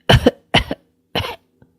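Three distinct coughs in quick succession, close and fairly loud, followed by a faint short click, with silence between each.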